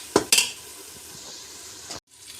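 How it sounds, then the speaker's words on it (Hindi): Keema and onion fry in a pan, with a couple of sharp scraping clinks from stirring at the start, then a steady soft sizzle that stops abruptly near the end. "दो से 3 मिनट इसकी और भुनाई करेंगे हम।"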